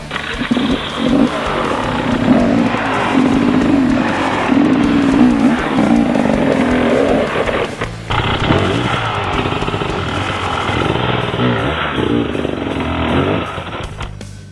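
An enduro motorcycle climbing onto a rock off-road, its engine revving and growling under load close by, rising and dipping throughout with a short lull midway.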